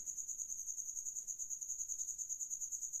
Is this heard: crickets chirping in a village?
yes